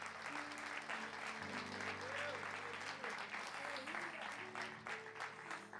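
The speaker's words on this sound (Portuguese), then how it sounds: "Você pode aplaudir o Senhor?" Church congregation applauding steadily throughout, a dense wash of clapping with sustained organ or keyboard tones underneath and a few voices mixed in.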